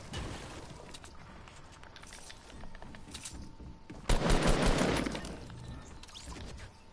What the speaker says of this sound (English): this guy has a freaking shotgun